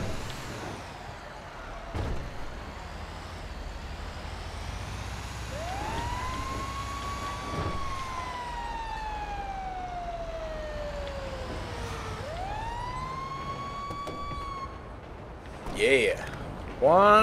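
Wailing fire truck siren in Grand Theft Auto V, rising and falling in two long sweeps over game ambience, with sharp air brake hisses near the end and occasional talk.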